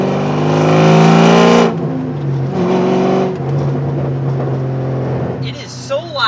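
A C5 Corvette V8 revs hard through a loud X pipe exhaust, a close, roaring burst that drops back to a rumbling idle with a second shorter rev, while a voice speaks briefly near the end.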